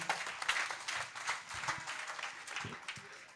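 A congregation applauds at an outdoor salvation and healing crusade in Bafoussam, scattered, fairly faint clapping from a distant crowd with individual claps standing out and a few voices underneath.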